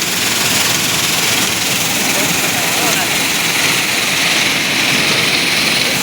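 A wheat threshing machine hitched to a mini tractor runs loud and steady, a continuous heavy engine roar and rumble with no breaks, close by.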